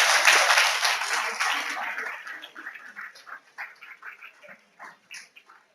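A school annual day audience applauds prize winners, a dense burst of clapping that fades over about two seconds before a voice speaks over the hall.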